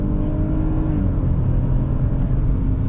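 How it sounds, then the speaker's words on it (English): A 2020 Ford Escape SE driven in Eco mode on a long stretch of road, its engine a steady low drone with road noise, even and continuous from inside the cabin. "You actually get a slightly different engine sound from this."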